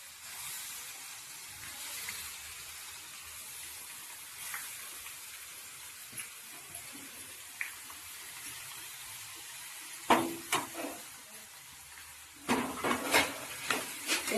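Grated carrots sautéed in ghee in a kadhai for gajar halwa: soft steady sizzle and hiss through most of it, with a few sharp metallic spoon scrapes and clanks against the pan near the end.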